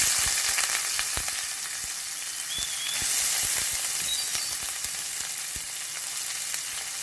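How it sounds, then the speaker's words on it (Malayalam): Chopped garlic and shallots fry in hot oil with popped mustard seeds for Kerala-style ginger curry, a steady close sizzle broken by scattered clicks and scrapes of stirring. "അരിഞ്ഞു വെച്ചിരുന്ന വെളുത്തുള്ളി, ചുവന്നുള്ളി ഇവ ചേർത്ത് നന്നായി ഇളക്കാം"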